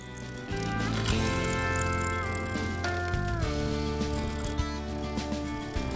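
A wood lathe spins a yew bowl blank while a full-size negative rake carbide tool peels away the outer layers, giving a loud, steady mechanical drone with rattling, chattering bursts and shifting tones, close and with no speech.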